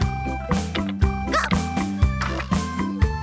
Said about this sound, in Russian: Собачка Гав-Гав.